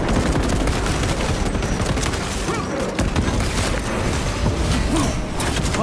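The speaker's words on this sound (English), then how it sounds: "Melter bomb deployed!" A melter bomb explosion amid dense gunfire in the video game Space Marine II, a loud, continuous barrage of rapid shots and booms with clanking mechanical noise and no pauses.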